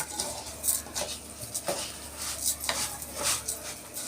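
A spoon scraping and clinking against a pot while vermicelli rice fries, with repeated metallic taps and rasping stirs in an uneven rhythm, close and moderately loud.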